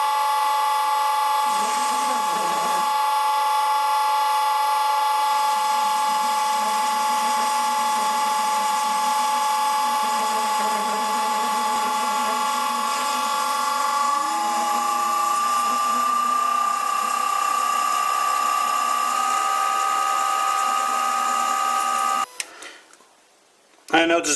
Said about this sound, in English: So I will bore it out again and settle for a sloppy thread